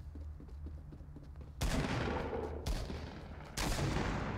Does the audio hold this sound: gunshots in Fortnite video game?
yes